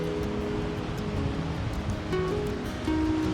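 Waves washing onto a fishing beach in north-east Scotland, a steady broadband rush of surf with gentle swells in loudness, close and continuous, with faint tonal background sounds.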